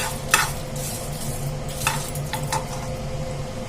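Dry, scraping stirring of lentils and flax seeds dry roasting in a pan, with a few sharp clinks of a utensil against metal over a low background hum.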